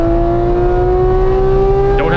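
A 2018 Porsche 911 GT3 (991.2) lapping a track, its engine holding a loud, steady high-revving drone with the pitch slowly climbing, then a brief rasp near the end.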